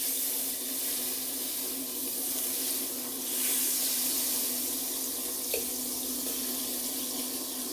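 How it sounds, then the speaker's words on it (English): Water runs steadily from a kitchen tap, filling a pot for cooking pasta at home, a continuous close hiss and splash with a slight swell midway and a brief clink near the end. "We got our water on for our pasta."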